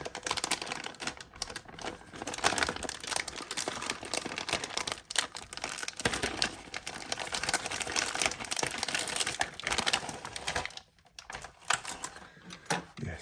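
Plastic parts of a 1:8 scale Dodge Charger R/T model kit are pulled from sealed packaging, with continuous close crinkling and rustling and rapid small clicks and taps.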